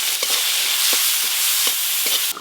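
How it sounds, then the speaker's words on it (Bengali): Bitter gourd pieces frying in a pan with turmeric and salt, a steady close sizzle of hot oil broken by a few soft stirring knocks, with no voices. "এবার উচ্ছেগুলো খুব ভালো করে ভেজে নেব"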